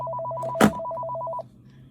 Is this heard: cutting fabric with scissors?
no